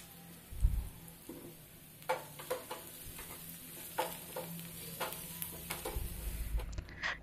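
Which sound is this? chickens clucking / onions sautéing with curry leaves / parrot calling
onions sautéing with curry leaves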